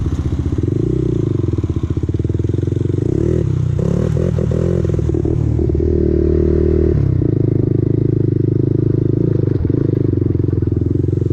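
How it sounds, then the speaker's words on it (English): A Honda TRX 400EX ATV riding over mud flats, its engine droning loudly and steadily while a loose skid plate clatters and rattles underneath, with a brief rise in revs and no clear talking. "my skid plate is rattling"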